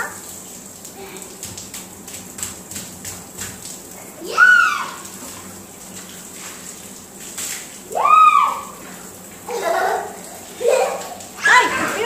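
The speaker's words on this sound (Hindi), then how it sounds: "पानी आ रहा बाहर, ऐसे नहीं करो।" Water sloshes and splashes in a bathtub as a small child bathes, with several distinct splashy bursts over a steady wet background; an adult's voice is heard at times.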